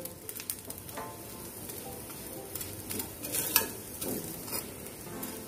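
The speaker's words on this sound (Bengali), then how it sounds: "এইভাবে আরো 2-3 মিনিট রেখে ওই পিঠটাও আমি সেঁকে নেব। দু পিঠই টোস্ট করা হয়ে গেছে ঘি দিয়ে।" A snack toasting in ghee in a pan gives a steady, faint sizzle and crackle with occasional stirring scrapes, running throughout with no talk.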